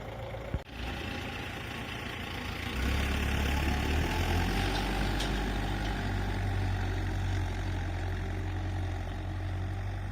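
A diesel MTZ-82 tractor pulling a left-hand plough through a field, its engine droning steadily and close by, growing heavier and louder partway through as the load rises, with a brief knock near the start.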